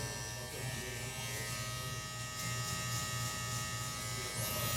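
Electric hair clippers with a number one guard set halfway open buzz steadily at close range while cutting fine hair in a barbershop fade, a continuous motor hum with faint voices underneath.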